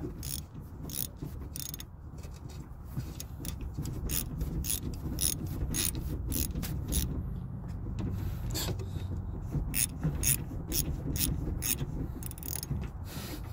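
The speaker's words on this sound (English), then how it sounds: "Let's see if we can just take these screws out." A ratchet on a long chain of extensions turns out trunk screws on a 1992 Buick Roadmaster, making a steady run of sharp, close metallic clicks in bursts over a low background rumble, with no talking.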